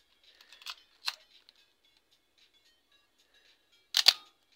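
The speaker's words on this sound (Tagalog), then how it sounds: "Ang bilis ng shutter eh." A Minolta X-700 film SLR camera fired up close in a quiet room: a few small mechanical clicks, then two sharp shutter releases about three seconds apart.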